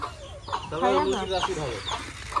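Chickens cluck close by in a short burst of repeated, throaty calls, with faint background noise around them.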